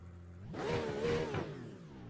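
A single GT3 race car engine in iRacing at the Nurburgring rises and falls in pitch for about a second, fairly quiet, like a brief rev or a car passing by.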